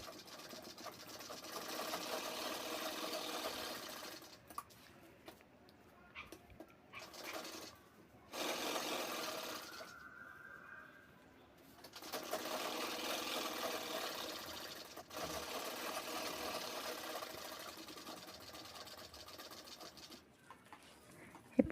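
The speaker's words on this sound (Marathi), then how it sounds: "आता तिन्ही साईडनं आपल्याला शिलाई घ्यायची आहे पॉकेटसाठी" A domestic sewing machine runs in stretches of rapid, even stitching as a pocket is sewn on three sides of a bag made from a saree border, with brief stops and a faint whine between runs.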